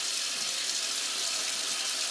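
A faucet runs steadily during hand washing, a constant hissing stream of water with no voices.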